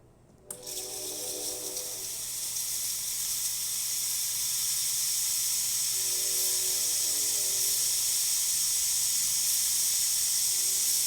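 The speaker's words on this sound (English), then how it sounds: "The steamer first." The steam wand of a Breville Oracle Touch espresso machine gives a steady, loud hiss of steam that starts abruptly and runs continuously, close by, with a faint low mechanical hum beneath it.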